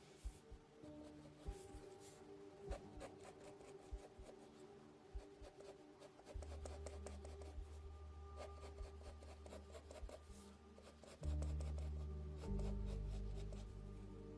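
Pencil sketching lines of an elephant on paper, faint soft scratching strokes close up in irregular rhythm, partly masked by a low hum that gets louder later.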